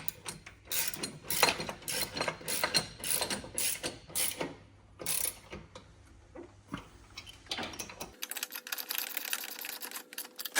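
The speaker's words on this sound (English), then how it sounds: "so I'm just using a wrench and a ratchet" A hand ratchet tightens nuts on a golf cart running board, rapid clicking pawl strokes in uneven bursts close by, followed by a short stretch of faster, finer ratcheting; no talking.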